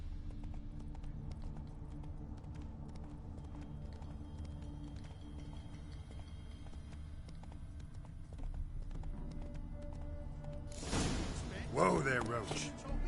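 Hooves of Roach, a horse in The Witcher 3, clip-clopping in a steady rhythm under game music and ambience, with a louder burst of sound near the end.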